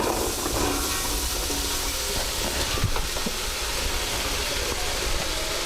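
Onions going into melted butter in a hot pan for French onion soup, giving a steady broadband hiss and sizzle that holds even throughout, with no talking.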